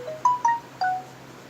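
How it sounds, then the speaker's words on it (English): A phone keeps going off with a string of short electronic chirping tones, three quick pitched bleeps in under a second, fairly faint over a quiet room. "this phone is going nuts"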